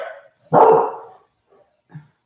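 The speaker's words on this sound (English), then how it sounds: "I can't concentrate with the barking." A dog indoors gives one loud, close bark, preceded by a short yip and followed by a couple of faint, brief whimpering sounds.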